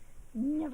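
Pet cat Ashes lets out a short, low growl, close and fairly loud, rising after a quiet moment and holding briefly as a droning tone.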